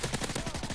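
FMG automatic gunfire in the video game Call of Duty MW3, a rapid, evenly spaced burst of shots packed into less than a second, loud and close.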